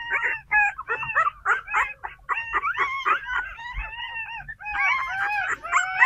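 Puppies at a pet-dog kennel in Bến Tre bark and yip in a rapid, overlapping chorus for several seconds. The high, nasal yelps come close and loud with hardly a pause, over low background rumble.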